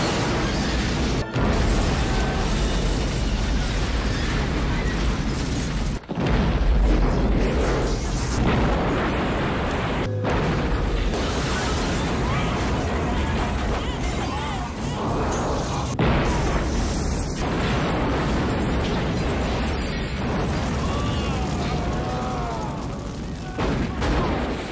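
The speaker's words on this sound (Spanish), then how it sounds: "Y ahora vamos a ver cuál de las dos películas tiene más explosiones." Dense action-movie explosions and gunfire-like blasts from Van Damme and Seagal films roar almost nonstop, with repeated booms and crashes layered over a loud, busy soundtrack.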